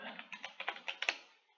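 A quick run of about ten keystrokes on a computer keyboard, close and fairly quiet, with crisp evenly spaced clicks that taper off into silence near the end.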